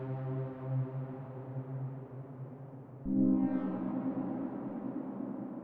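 Synthesized pad run through a shimmer reverb built from Logic Pro stock plugins, a sustained harmonic drone whose modulation shifts partway through, the wash swelling brighter and denser with rising octave shimmer, steady and fairly quiet with no voices.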